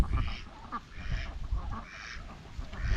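Farm ducks after feeding, a flock giving repeated loud honking quacks in irregular bursts close by, with no talk over them.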